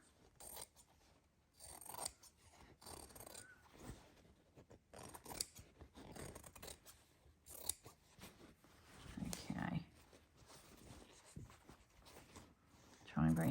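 A monster-sized pair of scissors snips through pieces of salvaged textile in repeated crisp cuts of varying rhythm, close to the mic, with a person talking briefly between snips.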